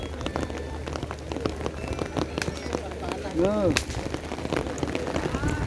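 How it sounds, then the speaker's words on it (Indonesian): Steady rain patters on a surface outdoors at a bull race ground on an island, with people talking over it and a short whistle-like call partway through. "Hujan ini kan."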